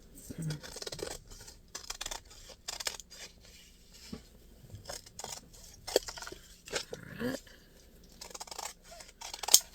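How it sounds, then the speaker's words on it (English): Crisp, repeated snips of scissors cutting paper for a journal, short bursts in an uneven rhythm, close and quiet with brief pauses between cuts. "Remember, don't slant your scissors. It helps. Gonna cut right on that line."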